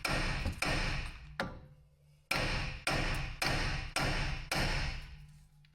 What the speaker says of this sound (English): Remove the hub by tapping with a hammer.